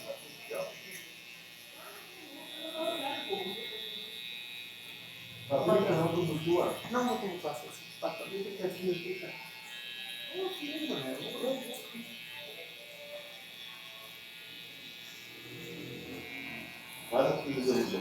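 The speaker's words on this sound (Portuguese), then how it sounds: "Vou começar aqui em cima, ó. Com a pontinha da máquina assim" Electric hair clipper buzzing steadily up close while its tip trims and defines the hairline outline in a barbershop haircut, a continuous hum running under someone talking throughout.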